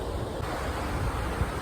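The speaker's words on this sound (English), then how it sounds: "So here's another lovely bit of flowing water" Flowing water outdoors in Cumbria, a continuous dense wash of rushing water mixed with wind noise on the microphone, steady and fairly loud throughout.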